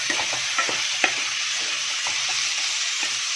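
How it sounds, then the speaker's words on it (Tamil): Vegetables stirred with masala in a hot pan for a cutlet recipe, a steady close sizzle with repeated soft scraping strokes of the spoon against the pan. "இந்த மசாலாவோட நல்லா இதையும் மிக்ஸ் பண்ணிக்கோங்க."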